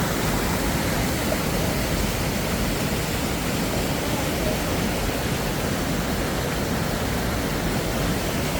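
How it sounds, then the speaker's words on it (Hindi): River water rushes steadily through a valley between mountains, a dense, unbroken roar of flowing water with no voices. "नीचे पानी का बहाव आप देख लें"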